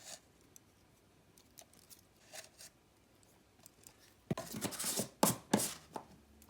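Flour and baking powder are sifted for an orange sponge cake, with near-silence at first and then a cluster of sharp, close taps and rattles from the sifter over the last two seconds.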